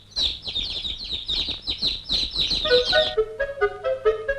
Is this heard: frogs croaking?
no